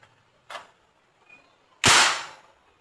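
A toy AR-15 rifle fires twice: a soft pop, then after a pause a much louder, sharp crack that trails off briefly.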